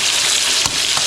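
Fish marinated in turmeric and salt fries in hot oil, giving a close, loud and steady sizzle that hisses without a break from start to finish.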